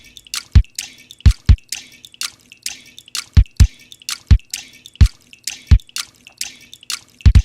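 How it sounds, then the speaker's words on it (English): A small bowl of water struck with a fist gives about fourteen sharp, close watery thumps with a splashy tail, landing in an uneven, loosely rhythmic pattern with no talking. "So I started with that little bowl sound of me hitting it with my fist."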